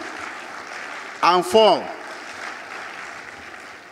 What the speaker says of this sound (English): give them 4 rounds of applause